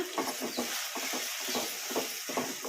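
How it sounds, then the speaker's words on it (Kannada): Cashew masala paste stirred in a pan over medium flame, rhythmic scraping strokes over a soft sizzle, close and steady without any voices. "ಮಸಾಲ ಹಸಿ ವಾಸನೆ ಹೋಗೋವರೆಗೂ ಫ್ರೈ ಮಾಡ್ಕೊಂಬಿಡೋಣ ಮೀಡಿಯಮ್ ಫ್ಲೇಮಲ್ಲಿ"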